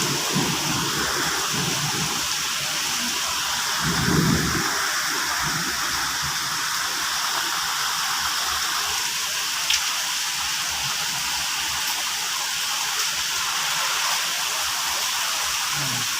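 Heavy rain falls steadily in Houston, Texas, a dense, even hiss of water with a few brief louder low swells but no clear thunder. No one speaks.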